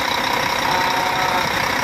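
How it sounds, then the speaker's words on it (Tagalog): A Howo NX 400-horsepower truck engine idles steadily and loudly up close, a dense continuous rumble with a faint knocking texture and no voices. "pinakita ko na sa inyo kung gaano kaganda ang makina nitong Howo NX 400 horsepower"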